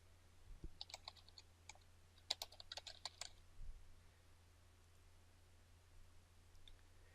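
Faint keystrokes on a computer keyboard, a quick run of clicks for a few seconds followed by near quiet with a couple of stray taps.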